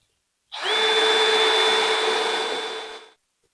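A power drill drives a screw through a floor board into a double stud of an off-grid tiny house floor, one continuous whirring burst of about two and a half seconds, close and loud, starting and stopping abruptly.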